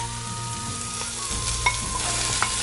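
Celery and carrots tumble into a hot frying pan for braised squirrel with broad beans, setting off a close, steady sizzle with a few stirring scrapes and small crackles.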